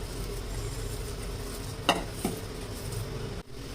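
A leftover rice cutlet mixture with chilli powder is mixed with salt in a bowl, a soft steady scraping and stirring with a couple of brief knocks, close and without speech.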